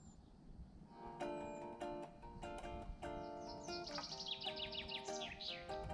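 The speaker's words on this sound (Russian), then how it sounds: "А, вот птица прямо надо мной." A bird sings overhead in an April forest, giving a run of sharp, clear whistled notes and trills that rise into rapid chirps, fairly close above a soft background hiss of insects or wind.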